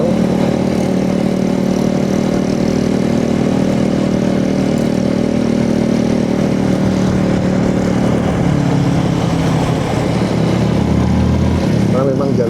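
Motorcycle riding a winding road on a group touring route, a loud, steady engine drone with wind rumble throughout, the engine note shifting near the end, with someone talking over it.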